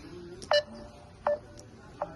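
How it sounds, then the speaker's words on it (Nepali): A phone dials a call to a family group, giving three short, clear DTMF tones spaced about three-quarters of a second apart over a faint, quiet background. "ल चाहिँ मैले घर फोन हान्दैछु यहाँ हाम्रो फ्यामिली ग्रुपमा।"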